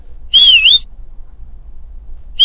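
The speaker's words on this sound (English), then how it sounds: "I'm pretty sure it's two construction guys whistling at a woman going down the street" A played recording of a wolf whistle by two construction workers at a woman on the street, one sharp rising and falling whistle and the start of another, loud and clear with no talking.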